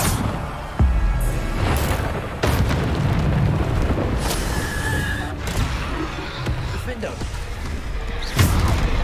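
A Bombarda spell exploding in the video game Hogwarts Legacy, heard as several loud, deep booms and bursts amid continuous battle noise, with a voice shouting over them.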